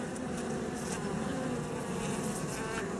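Honey bees drone steadily around an open hive during an inspection, a dense continuous buzz close by and without pauses.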